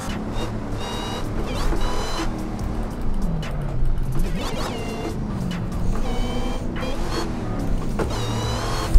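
Dodge Demon engine in the racing game Assetto Corsa, a steady loud roar with rising and falling revs through a slippery turn, continuous and alone with no talk.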